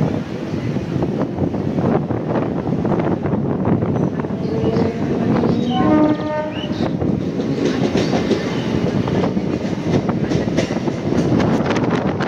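Morning local train pulling out of Dum Dum Junction station, heard from inside with steady rumbling, rhythmic clickety-clack of wheels and heavy wind noise, a brief tonal squeal partway through.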